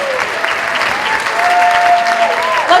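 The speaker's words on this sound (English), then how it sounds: "Give yourselves all a round of applause." At an evening awards event, a crowd breaks into steady, full applause that holds throughout, with a few faint voices mixed in.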